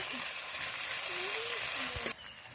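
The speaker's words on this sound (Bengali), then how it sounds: "আদা রসুন দিয়ে দিলাম আমি ভালো করে কষিয়ে নেব" Ginger and garlic frying in a pan, a steady close sizzle that holds throughout, with faint tonal chirps over it and an abrupt drop near the end.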